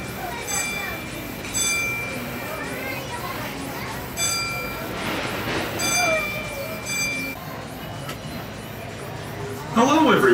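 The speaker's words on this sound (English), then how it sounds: "Thanks for joining us on the Disneyland Railroad." The Disneyland Railroad train rolls along its tracks with a steady rumble and occasional metallic clinks, while children and other passengers chatter in the background.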